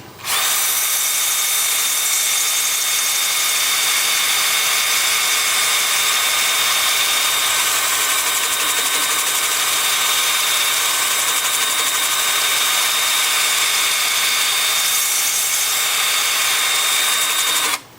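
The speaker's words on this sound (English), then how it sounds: "with the lathe spinning forward at about 350" A wood lathe spins steadily while turning a butternut wood piece, producing a loud, constant high-pitched whine with a faint tonal hum, continuous and unbroken throughout with no voices.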